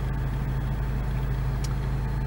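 A new Subaru WRX with a performance manual transmission driving along, heard from inside as a steady, even engine drone and road rumble with no talk.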